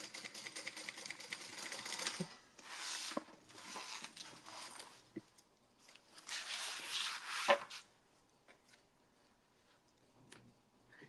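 A sewing machine top stitching a tote bag, its motor whirring in several bursts of a few seconds each, separated by short pauses and ending in a quieter stretch.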